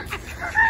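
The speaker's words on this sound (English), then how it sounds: "And then the goose." A goose in a home garden during winter lets out one brief, loud honk at close range over outdoor background noise.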